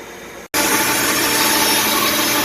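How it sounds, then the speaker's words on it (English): A saw blade cutting wood on a homemade resaw sled, a loud, steady, close rasping whine that starts abruptly after a brief quieter hum and runs on unbroken. "When you're cutting, you can hear the blade start to sing to you."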